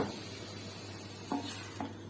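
Onions sizzle and hiss steadily in hot oil, with a couple of brief clinks of a utensil against the pan.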